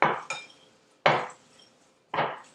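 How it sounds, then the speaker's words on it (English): Sliced apples tossed with coconut sugar in a bowl: three separate, close scraping strokes of a utensil against the bowl, each fading quickly into quiet, with no voices. "we're just going to mix that all up together"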